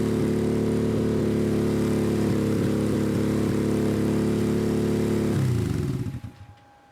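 A dune buggy engine runs at a steady, close, buzzing idle for several seconds, then slows and winds down to a stop, with no voices over it.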